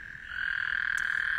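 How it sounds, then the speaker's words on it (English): A single drawn-out nasal croak from a green tree frog, loud and close, holding steady for over a second with quiet surroundings. "The green tree frog"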